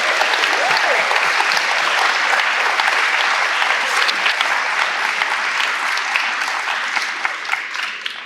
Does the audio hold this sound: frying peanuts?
no